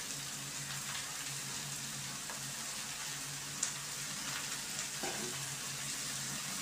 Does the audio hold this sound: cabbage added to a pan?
yes